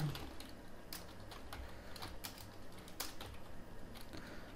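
Code is typed on a computer keyboard in quick, irregular bursts of faint key clicks, close by against a quiet room with no speech.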